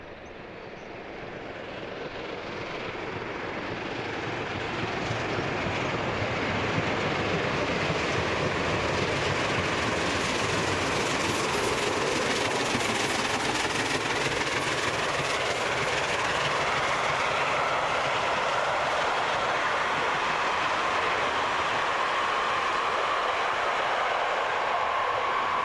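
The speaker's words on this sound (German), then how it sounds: "Bei Parsberg dampft der jetzt rote Renner über die Gleise." Red high-speed steam locomotive 18 201 running near Parsberg at about 120 km/h, a continuous rushing rumble of wheels on rails that swells from a distance and stays loud and steady for a long pass, with no talking.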